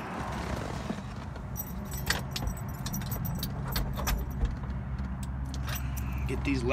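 Keys jangle beside a 1969 Shelby GT350 convertible with a 4-speed, light metallic clinks scattered over a steady low rumble while someone talks nearby.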